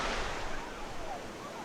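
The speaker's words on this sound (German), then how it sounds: "die Wellen sind halt schon ziemlich nah am Strand" Ocean waves breaking close to shore on a beach in India, a broad steady wash of surf with some wind noise, moderately loud and continuous with no talk.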